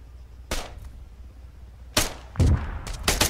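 Gunfire in the ArmA 3 military video game: sharp isolated shots and a short burst of reports spaced across a few seconds, loud against a quiet background with no talk.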